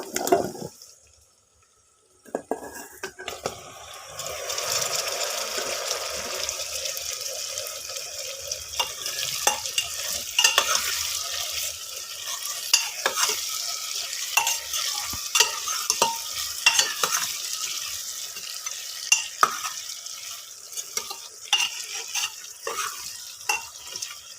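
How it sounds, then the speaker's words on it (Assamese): Cut potatoes and chicken fry in a pan for a home chicken curry, a steady close sizzle with stirring scrapes and clatter after a brief quiet start, continuous and busy with no voices. "মই এতিয়া কাটি লোৱা আলুখিনি দি আলুখিনিও অলপ ফ্ৰাই কৰি ল'ম"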